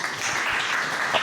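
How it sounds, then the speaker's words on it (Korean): Audience applause at a smart-construction industry forum, welcoming a presenter to the stage; a steady, dense wash of clapping from a hall crowd lasting about a second. "큰 박수로 모시겠습니다."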